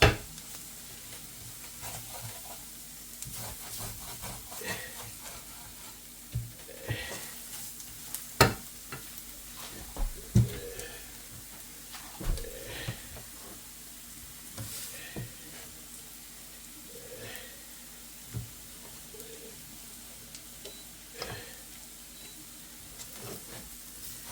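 Flour cooks in a pan for gravy while being stirred, making a faint, quiet sizzle broken by soft scrapes and light clicks of the utensil at irregular intervals.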